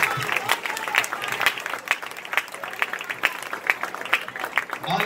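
Church congregation clapping, with sharp individual claps standing out from a steady group applause, fairly close and lively.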